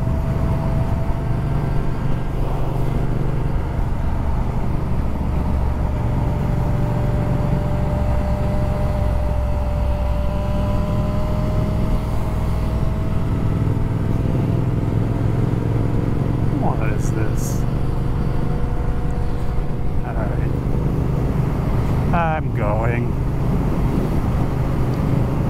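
A Triumph Speed Twin motorcycle with a flashed ECU is ridden, its engine droning steadily beneath wind noise as the throttle is worked, with occasional short vocal sounds over it.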